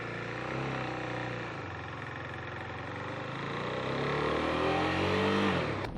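A Husqvarna Svartpilen motorcycle pulls away, its single-cylinder engine buzzing steadily and then revving higher as it gathers speed, close and continuous with no talking.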